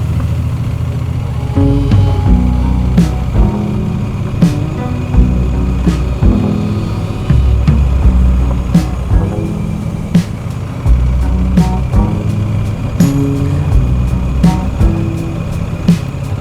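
A Triumph Bonneville motorcycle fitted with a touring screen rides along a narrow country road between tall hedgerows, its engine giving a steady, loud, continuous drone with slight rises and falls in pitch.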